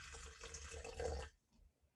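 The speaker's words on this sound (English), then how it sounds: "So take your jar, pour some hot water in there." Hot water pours from a kettle into a glass jar, a steady close splash and gurgle lasting just over a second before it cuts off abruptly into near silence.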